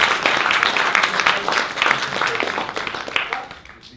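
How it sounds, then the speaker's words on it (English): A studio audience breaks into a round of applause for Simon, dense clapping that holds steady before tapering off near the end. "Ladies and gentlemen, give Simon a huge round of applause."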